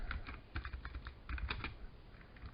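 A natural language query typed on a computer keyboard, with quick irregular key clicks running throughout, fairly quiet and close.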